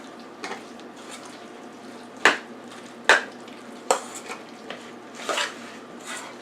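Grandma Ray's potato salad being mixed in a bowl: a few distinct spoon clacks and wet squishing stirs, close and irregular, over quiet room background.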